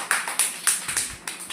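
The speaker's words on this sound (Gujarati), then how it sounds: "તાળી પાડો બાળકો." Young children clap together in a classroom, about six evenly spaced, rhythmic claps, close and moderately loud, with no talking.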